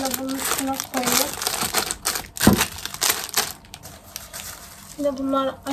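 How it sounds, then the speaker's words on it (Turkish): Plastic garbage bags crinkle and rustle in loud, uneven bursts as they are handled and set down in a home kitchen, with brief pauses between the handling. "Çöp poşetlerini de bunun üstüne koyayım."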